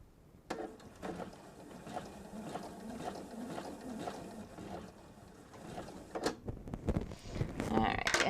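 Sewing machine stitching through fabric in quick mechanical bursts that speed up and pause between runs, with soft clatter toward the end.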